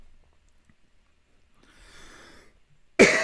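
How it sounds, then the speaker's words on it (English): Coughing and snorting breaths from one person: a faint, breathy rasp mid-clip, then a sudden loud, harsh burst close to the microphone at the very end. "I wish I could stop coughing."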